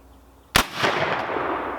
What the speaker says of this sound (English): we're going to give it a shot totally offhand at the 100-yard target